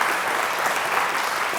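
Applause fills the hall at a community awards ceremony, a broad, even patter of many hands clapping continuously with no talk over it.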